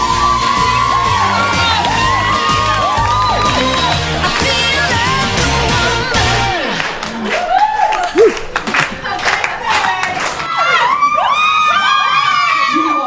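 Holiday crowd at a resort entertainment show clapping along and cheering, with children shouting and whoops; loud and dense at first, then thinning into scattered cheers and voices.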